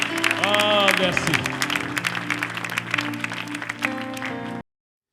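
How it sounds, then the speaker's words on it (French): Church congregation applauding and cheering during worship, a dense, loud, continuous wash of clapping and voices with a sung or chanted line rising above it before cutting off abruptly. "Acclamons notre Dieu. Acclamons notre Seigneur. Acclamons Jésus"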